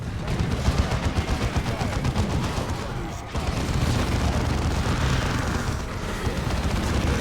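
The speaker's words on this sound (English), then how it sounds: "Oh my god, that's a rocket launcher." Rocket launcher fire and battle explosions in Warhammer 40K Dawn of War 2, a dense, loud, continuous roar of booming blasts and rapid gunfire with no pauses, with no voices.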